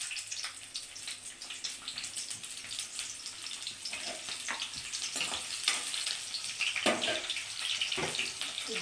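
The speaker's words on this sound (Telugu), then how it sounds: "ముందుగా ఒక 3 స్పూన్ల నూనె వేసుకున్నాను. ఉల్లిపాయలు వేసుకున్నాము." Chopped onions fry in about three spoons of oil for a ridge gourd and egg curry, giving a soft, continuous hissing sizzle with faint crackles and a few small bumps, fairly quiet and close.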